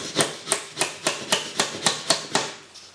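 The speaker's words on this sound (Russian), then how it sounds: "И вы спокойно забиваете ваш гвоздь." A hammer drives a nail into the wooden frame of an entryway mirror with about nine evenly spaced sharp taps, close and crisp, the last one lighter.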